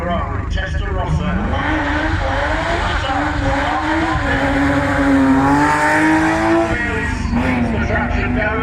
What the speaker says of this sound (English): We get to enjoy Ferrari, Testarossa